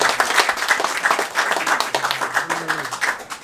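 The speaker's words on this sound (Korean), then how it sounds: "여러분 신옥균 회장님께 큰 박수 부탁드립니다" Brief, lively clapping from a crowd at a Korean political lecture event greets a former association chairman, rapid rhythmic claps with some murmuring voices mixed in.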